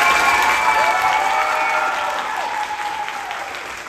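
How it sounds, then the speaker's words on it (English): Loud, full audience applause at a high school fall chorus concert, dense and sustained from a large crowd, slowly easing off toward the end, with faint cheering mixed in. "Can we give them another big round of applause?"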